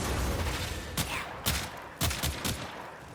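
Gunfire from shooting enemies in the video game Warframe: several sharp, loud shots at irregular intervals, roughly five bursts over a steady background din of game ambience.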